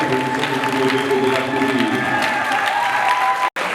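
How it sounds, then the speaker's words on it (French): Warm applause from the audience at a beauty-training certificate ceremony, a full, continuous clapping with faint crowd murmur that carries on for several seconds and cuts briefly near the end. "je demande de l'applaudir."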